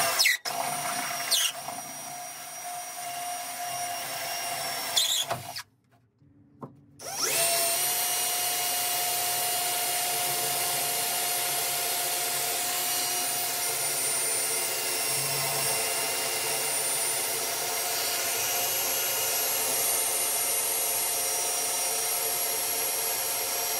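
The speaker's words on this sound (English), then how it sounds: "So we're just going to drill our pilot holes now." A power drill whirs steadily at close range, drilling pilot holes in an Isuzu D-Max tub to mount a dual battery kit, a short burst first, then a brief pause before a long continuous run.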